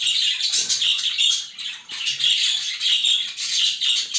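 Show jumbo birds put together as a breeding pair chirp and chatter continuously at close range in bright, busy bursts with no talk.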